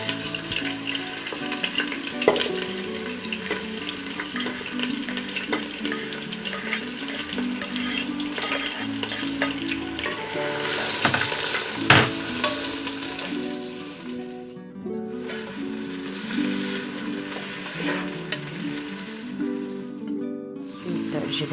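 Chopped ingredients sizzle in a saucepan alongside salted fish and shrimp being prepared in tomato sauce, a steady frying hiss with occasional stirring clatter and scraping throughout, close and moderately loud.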